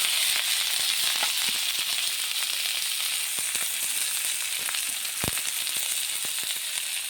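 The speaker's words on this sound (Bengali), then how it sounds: "এখন আমি কাঁচা ঝাল আর কাঁচা পেঁয়াজ ঢেলে দেবো ডিম ভাজার জন্য।" Green chillies and raw onions fry in hot oil in a pan before eggs go in. A loud, steady sizzle with scattered crackles and one sharp pop runs throughout.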